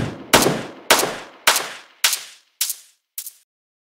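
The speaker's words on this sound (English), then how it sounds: "A high pass filter does the opposite." Gunfire sample run through a high pass filter: six sharp, thin gunshot bursts spaced about half a second apart, each fading quickly, with the low end stripped away and the shots growing fainter toward the end.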